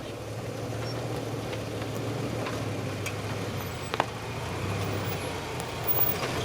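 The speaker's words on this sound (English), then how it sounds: "Let's see how the long Toyota goes here." Toyota Hilux double cab working through an off-road course at a 4x4 club challenge, its engine a steady low drone throughout with a brief knock or clunk partway, no voices.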